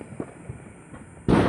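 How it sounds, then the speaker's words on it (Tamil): A firecracker goes off with a sudden, loud, close blast near the end, following faint scattered pops and thuds in the background. "அங்கே வெடிக்குது, நீ பயப்படாத."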